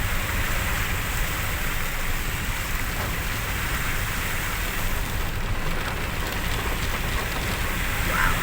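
Heavy rain falling on flooded streets in Ahmedabad, a steady even hiss of downpour on water and pavement throughout, with a faint rumble beneath and no voices.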